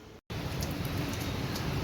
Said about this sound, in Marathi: फायनली पावसाला पण सुरुवात झाली